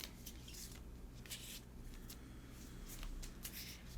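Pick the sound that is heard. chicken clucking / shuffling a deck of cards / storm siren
shuffling a deck of cards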